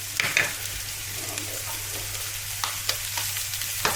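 Eggs fry in a pan over a spicy Spanish vegetable base, giving a soft, steady sizzle with a few light utensil taps, fairly quiet and close.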